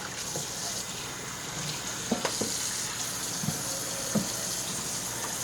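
Steady running water rinses a textured linoleum floor item before washing, a constant close gushing hiss throughout with a few faint knocks and clicks over it, no talk.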